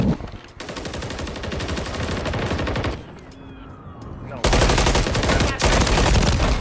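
Rapid automatic gunfire in a video game gunfight, dense bursts of loud shots for most of the stretch, a brief lull in the middle, then another heavy near burst.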